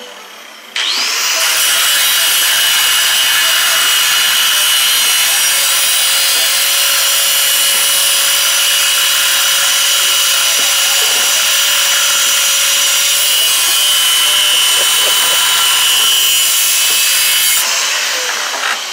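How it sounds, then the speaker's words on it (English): An angle grinder cuts through steel rebar in one long continuous pass, a loud, close, high-pitched whine with a harsh grinding edge that holds steady for about sixteen seconds before stopping abruptly, with no talk. "What kind of machine are you using to cut the rebar? Grinder."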